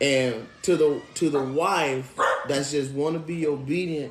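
A dog barks and yelps nearby in short, pitched bursts, mixed in with a person talking loudly.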